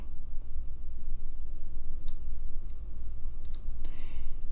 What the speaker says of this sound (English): So I'm clicking on this anchor point and dragging it out.